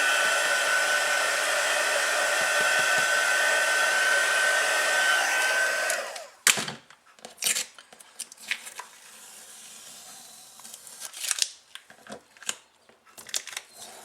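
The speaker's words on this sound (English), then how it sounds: "So I'm going to dry this really quick, and then I'm going to assemble the card." A hair dryer blows loud and steady on a watercolor painting for about six seconds, then cuts off, leaving rustling, crinkling paper handling and taps of the card being assembled.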